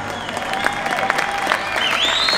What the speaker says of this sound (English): Thank you very much for that rousing applause.